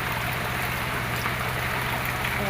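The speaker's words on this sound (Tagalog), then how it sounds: "Ayan, dyan niya po pinadaan yung tubig." Irrigation water running through a channel in a farm field, a continuous rushing and gurgling flow, close and steady with no pauses.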